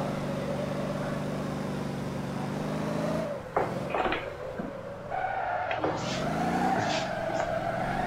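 Video-game limousine with a turbocharged V8 drifting in Motor Town, a steady engine drone broken by bursts of squealing, burning tires that swell and fade across the run, heard up close with no talk.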